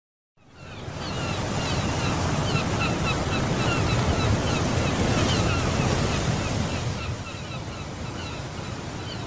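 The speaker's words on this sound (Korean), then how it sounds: "두 노인이 동해안의 바닷가에서 바다를 즐기고 있네요." Sea waves roll onto an East Sea coast beach, a loud steady roar of surf with wind buffeting the microphone, rising from silence and holding throughout.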